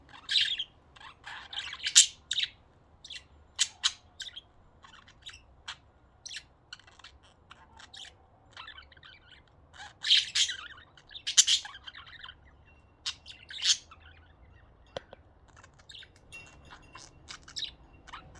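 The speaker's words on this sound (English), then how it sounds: "They call each other because they can hear crows." Pet budgies chirping and calling back and forth indoors, with bursts of bright tweets and squawks coming in clusters, loudest around a few moments, alone with no talk.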